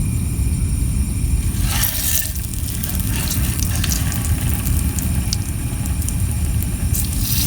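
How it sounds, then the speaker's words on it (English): Fish frying in hot oil in a pan at a beachside camp, with a steady loud sizzle and crackle running continuously with no voices. "Let's fry the fish."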